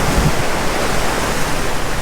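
Ocean water washing in over big rocks on Oahu's sunny leeward west coast, a steady, loud broadband rush of surf with no talk.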